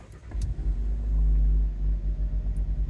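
An MG HS DCT Trophy automatic starting up at the press of its start button, a low steady engine rumble that swells briefly then settles into an even idle, close and without talk.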